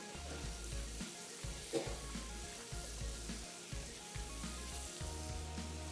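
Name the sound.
roasted sesame seeds frying in butter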